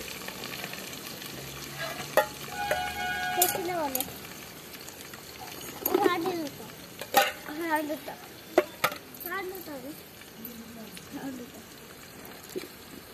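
Onions, green chilies and curry leaves sizzle in hot oil while being stirred, with scraping stir strokes and crackling bursts up close and voices talking in the background.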